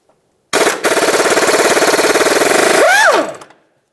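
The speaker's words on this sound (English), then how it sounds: "Let's use our 24 millimeter socket to remove this bolt." A crankshaft bolt on a Buick LeSabre is driven out with a 24 mm socket: a loud, rapid, hammering buzz that lasts about two and a half seconds, then winds down in pitch and stops.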